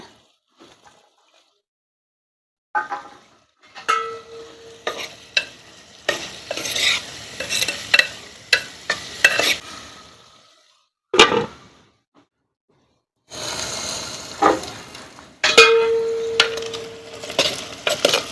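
Onions fry in a clay pot and are stirred with a wooden spoon: bursts of sizzling and scraping come and go, with sharp clacks and short silent gaps between them, close by and without talk.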